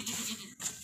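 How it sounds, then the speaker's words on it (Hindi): A single short bleat from a heavy, well-fed sacrificial goat, close and fairly loud, with a brief break partway through. "बहुत ही ज़बरदस्त मोटा ताज़ा बकरा है, वज़नी बकरा है"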